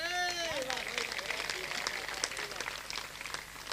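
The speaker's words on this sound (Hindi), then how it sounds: "ताली बजाने की कोई जरूरत नहीं थी" A voice speaks briefly before an audience at a kavi sammelan, a Hindi poetry gathering in Shakkargarh, breaks into quick, scattered clapping that carries on moderately loud for a few seconds.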